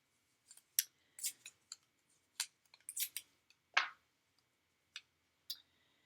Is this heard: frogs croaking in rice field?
no